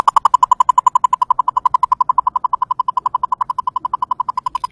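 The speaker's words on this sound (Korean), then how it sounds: "클릭음은 이런 소리가 납니다." The click stimulus of an ABR newborn hearing test runs as a rapid, perfectly regular train of sharp, high-pitched clicks, about ten per second, steady and close with no other sound.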